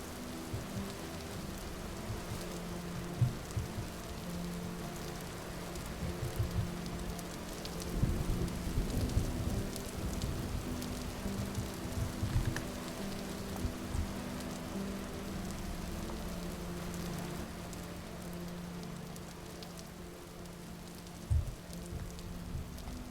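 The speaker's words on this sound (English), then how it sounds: "The storm just seemed a little loud to me, so I thought I'd turn the volume down." Steady rain hisses over a low rumble of thunder during a storm in the Vintage Story survival game, with a few louder gusts and bumps, the ambience held at a moderate, even level without any voices.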